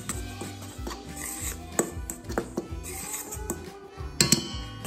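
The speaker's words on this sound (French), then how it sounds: "On mélange." Salt, vanilla sugar and sugar are stirred in a bowl for homemade brioche, with scattered scraping clinks of a utensil against the bowl over a faint background hum.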